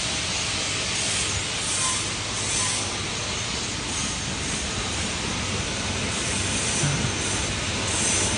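A blower on a DW200 ripple double wall paper cup machine runs steadily, a continuous broadband airy hiss with a low mechanical hum underneath, loud and even throughout with no talking.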